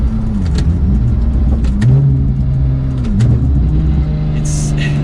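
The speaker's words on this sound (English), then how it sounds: "It is a loud car." A loud 992 Porsche 911 GT2 engine hums and revs in rising and falling pitch sweeps, with a voice briefly heard over it.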